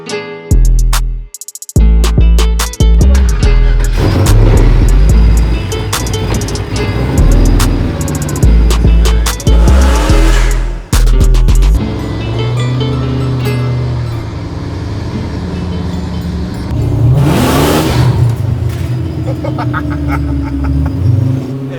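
A supercharged LS V8 engine swapped into a widebody BMW 6 Series revs hard in repeated loud surges, with a roaring, rising whine near the end as the tires spin.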